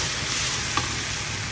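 Ginger garlic paste spits and fries in hot oil with golden brown onions and bay leaf, a steady, close, even sizzle throughout with no talking.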